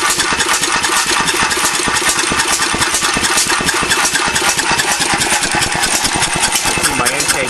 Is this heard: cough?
no